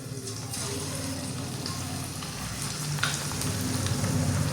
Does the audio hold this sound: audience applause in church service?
no